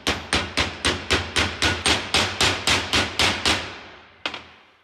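A hammer drives a seal into a Ford Dana 50 TTB axle with a 32 mm socket, about fourteen sharp, evenly spaced metallic strikes close to the microphone, then a pause and one final louder blow.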